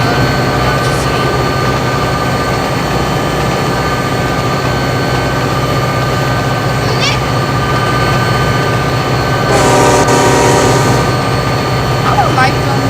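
A train in the Trainz video game runs with a loud, constant engine drone and wheel noise, with brief higher-pitched electronic squeals partway through.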